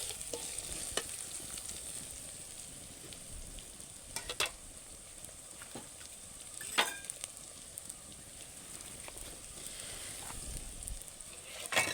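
Chicken for a Pallipalayam-style fry sizzles in a pan with shallots and red chillies, a steady soft crackle and hiss broken by several sharp scraping stirs over about twelve seconds, with no talk.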